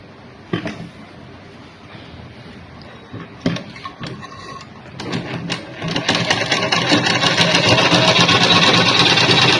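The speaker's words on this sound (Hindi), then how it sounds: "इसके ऊपर एक किनारे पे सिलाई लगा देंगे" Domestic sewing machine stitching the edge of a blouse belt, starting with a few short bursts and taps, then running steadily and loudly through the final seconds.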